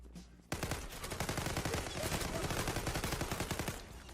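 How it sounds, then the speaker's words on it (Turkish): Continuous automatic gunfire in the online shooter Zula, a dense steady stream of rapid shots that starts abruptly and keeps going, fairly quiet in level, with no talk over it. "Rastgele sıkıyorum yemin ederim rastgele sıkıyorum."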